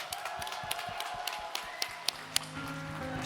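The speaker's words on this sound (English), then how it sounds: "let's have one more round of applause for Team Orange Mushroom" Audience applause for the winning team, Team Orange Mushroom, at the end of a points-based game competition: a steady, moderately loud patter of many hands clapping, with sharper individual claps standing out near the end.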